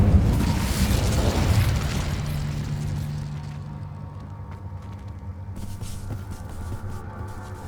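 The Incendio fire spell in Hogwarts Legacy goes off as a loud, booming blast with a rich low-end rumble that slowly decays into a softer lingering roar and faint crackles over several seconds.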